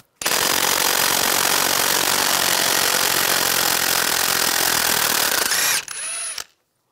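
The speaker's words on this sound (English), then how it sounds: "Using a 30 millimeter 12 point socket, take this nut off." An impact wrench with a 30 mm 12-point socket spins off the front CV axle nut on a 2004–2009 Toyota Prius, a loud continuous rattling hammer for several seconds that shifts pitch briefly before stopping abruptly.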